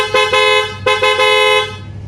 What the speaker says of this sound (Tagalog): Tapos nilagyan natin to ng dual horn mga sir.